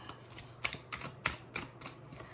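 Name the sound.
shuffling a small oracle card deck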